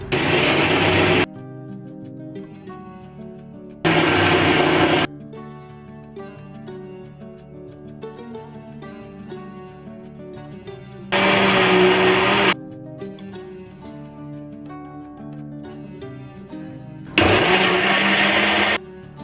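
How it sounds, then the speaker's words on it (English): A grinder blends hot peppers into a smooth paste for homemade hot sauce, running in four loud whirring bursts of a few seconds each, separated by quieter gaps. "You want to grind them completely to a smooth paste. So I'm gonna grind the next batch."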